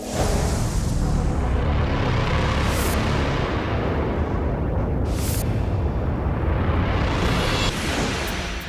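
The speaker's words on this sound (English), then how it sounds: "Fires and explosions rage along the plane's 95-meter track through the building." A loud, continuous roar of raging fire and explosions inside the Pentagon after a plane crash, dense and rumbling throughout, with a few sharper whooshing bursts cutting through.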